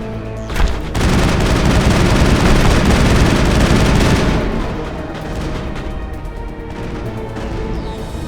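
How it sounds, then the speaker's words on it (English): Heavy gunfire in the video game Mass Effect, a loud sustained burst of rapid shots and booms that eases into a lower rumbling barrage. "In the future, run away from the sound of gunfire."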